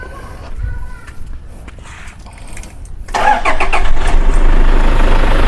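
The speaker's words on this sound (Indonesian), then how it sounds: "Seperti ini suara ciri khas mesin 2KD VNT ya teman-teman." A Toyota 2KD VNT diesel engine in a Hilux double cab cranks and starts after a few quiet shuffling sounds, then settles into a steady, rumbling idle that continues loudly to the end.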